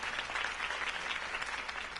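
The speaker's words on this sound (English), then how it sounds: "could have heard that applause" A crowd applauds in the Batman Telltale game, a steady, soft wash of clapping heard briefly and fairly distant, with no talk.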